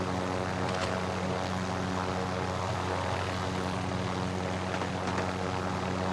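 A helicopter flies steadily in the video game Call of Duty Warzone, a constant droning engine and rotor hum that holds at an even, moderate level throughout with no talk over it.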